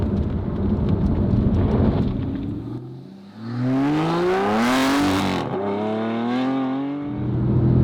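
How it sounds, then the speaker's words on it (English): An Aston Martin V12 fitted with a V12V performance kit accelerates on the road, its engine note climbing steadily in pitch as the revs rise, then easing off. A steady rush of road and wind noise runs underneath throughout. "You can feel the urgency of the engine is increased vastly."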